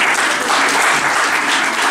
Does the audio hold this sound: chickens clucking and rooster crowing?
no